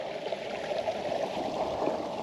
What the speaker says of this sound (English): Just walking down this little creek here.